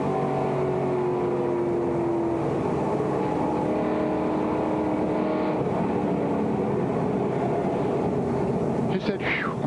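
Onboard a NASCAR race car during 1999 Speedweeks, the engine's loud, steady drone and road rush carry throughout, with a shifting pitch and a sharp rising whine at the very end.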